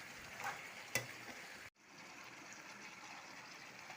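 Meat with kohlrabi, tomato and potato fries in a pan, a quiet continuous sizzle with a sharp clink early on, then a brief cut before the hiss resumes faintly.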